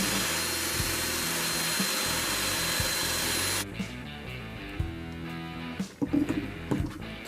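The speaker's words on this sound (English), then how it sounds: "I've got an oak dowel rod in my drill and it's too big to fit in the hole" A drill spins an oak dowel rod against a sanding block, a steady whining grind for the first few seconds, then cutting out into quieter, intermittent scraping and clatter.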